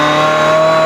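A steady, constant-pitch mechanical hum from an Audi car running just after start-up, loud and close, with no variation in revs across the short burst.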